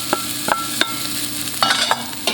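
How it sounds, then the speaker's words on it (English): Leek stirred into a pot for vegetarian chili, a steady low sizzle running under a few sharp scraping clicks of the spoon spaced irregularly across the clip, close and moderately loud. "I'm going to add my leek."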